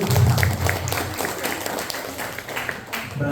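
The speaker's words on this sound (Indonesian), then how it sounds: "beri tepuk tangan untuk Bapak dan Ibu" A talk show audience claps for a few seconds, a scattered patter of hands that fades and thins, with some low murmur underneath.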